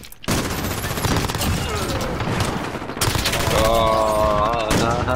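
A sentry gun in Modern Warfare's Cranked mode fires loud, rapid, sustained automatic bursts with sharp cracks, heavy and close, running almost without pause, with a voice briefly heard.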